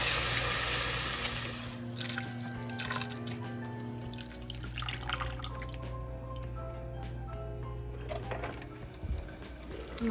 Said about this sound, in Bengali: আর এখন আমি ভালো করে আগে ওয়াশ করে নেব।